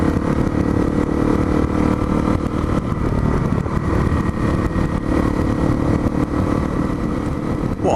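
A Honda CRF250L motorcycle engine runs steadily while being ridden on a country loop, a loud continuous mid-pitched drone with slight rises and dips in revs and no voices throughout.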